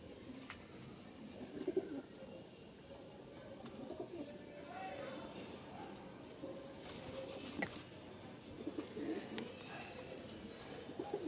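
Domestic pigeons kept by a fancier coo softly at close range, a few low murmuring calls spread through a quiet stretch, with some faint rustling and patter around them.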